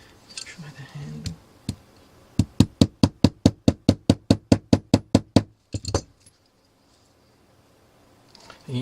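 Sharp knocks of a tool handle tapping a pin flush on a Samsung Gear S3 watch strap, about sixteen evenly spaced close taps in a steady run, with a few scattered taps and quiet handling before and after.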